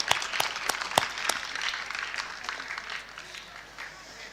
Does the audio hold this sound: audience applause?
yes